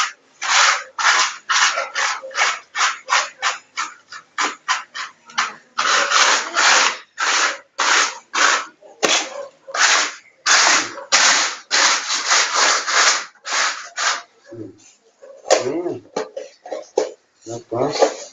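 A trowel spreads textured wall plaster down near the baseboard in repeated long rasping strokes, each a gritty scrape separated by brief pauses, loud and close.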